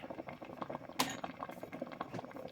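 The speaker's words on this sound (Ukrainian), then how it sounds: "З моменту закипання проварюю овочі на середньому вогні рівно 30 хвилин, періодично помішуючи." Vegetables for courgette adjika simmer in a pot over medium heat, giving faint, irregular bubbling and soft popping with one brief clink near the middle.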